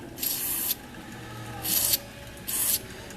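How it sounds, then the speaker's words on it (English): Three short hissing bursts of aerosol mass airflow sensor cleaner sprayed on a 1995 Mazda 626's sensor, evenly spaced, each lasting under a second, close by with quiet gaps between. "Alright, mass airflow cleaner, mass airflow sensor. I'm going to spray."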